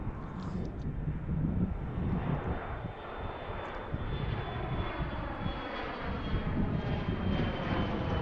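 A Subjet airliner departing Philadelphia passes right overhead, a loud, continuous jet engine roar that fills the whole stretch with a steady, broad rumble.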